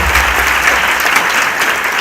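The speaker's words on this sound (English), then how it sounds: "Anyone give a big round of applause?" Loud, continuous applause from a large audience at a formal induction ceremony for physician assistants, a dense even roar of clapping lasting the whole span.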